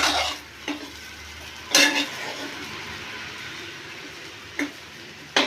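Semolina for rava laddu dry-roasting in a pan while being stirred, with a soft continuous scraping hiss broken by a few sharper spoon-against-pan knocks, close up and with no talking.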